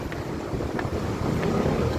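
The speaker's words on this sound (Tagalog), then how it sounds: "Malakas din ang hangin dito guys." Strong wind roars and buffets the microphone in a steady, heavy rumble, with no voices heard.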